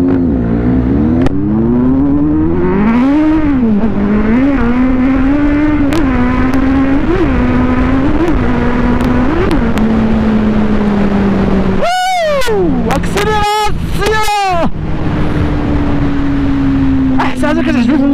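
Yamaha TMAX 530 scooter whose drive belt has snapped, its engine revving loud and close with repeated throttle rises and falls, then sharp revs near the end.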